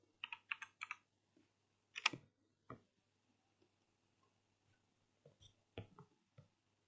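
Keys clatter in short bursts on a computer keyboard while entering a drafting-software command, clustered taps up front, a pause, then a few more scattered keystrokes, close and fairly quiet.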